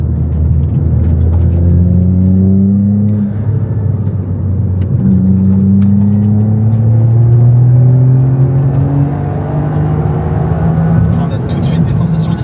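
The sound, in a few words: Toyota Yaris GR engine accelerating in track mode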